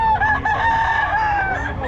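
A rooster crows loudly and close by, one long drawn-out call, among the clucking of other chickens at a poultry market in Bocaue.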